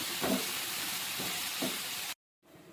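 Okra, tomato, onion, green chilli and tamarind cook under a lid in a pan, giving a steady soft sizzle and hiss with faint bubbling pops that cuts off abruptly near the end.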